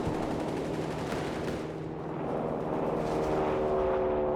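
Sustained anti-aircraft flak fire in Company of Heroes 3, a dense, continuous wash of distant rattling bursts and booms that swells slightly toward the end, with no voices over it.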